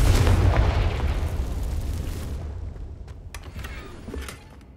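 A booming blast-type spell from Hogwarts Legacy goes off loudly right at the start, its deep rumble slowly fading into a long tail with a few faint pops afterward.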